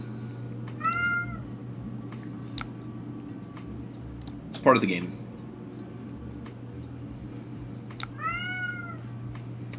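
An indoor cat meows loudly twice, several seconds apart, with a brief sharp knock in between, while someone speaks quietly in the background.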